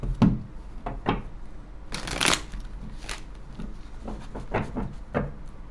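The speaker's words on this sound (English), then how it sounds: "One more shuffle." Tarot cards shuffled by hand during a love reading, a few crisp riffling bursts and soft slides close by with quiet pauses between, no voices.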